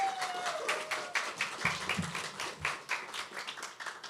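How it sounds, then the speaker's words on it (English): Applause from a small audience at a university talent showcase, a brief patter of hand claps at moderate distance with a faint voice mixed in. "let's give a round of applause for Unnati"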